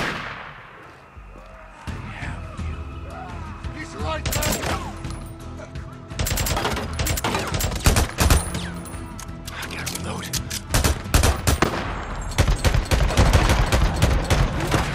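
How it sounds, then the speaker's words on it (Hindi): Gunfire in Days Gone during a zombie horde fight at Iron Butte, rapid loud bursts of automatic shots cracking repeatedly against rumbling background noise, with someone talking between and over the shooting. "इस गन की गोलियों की आवाज सुनिए कितनी मस्त लगती है।"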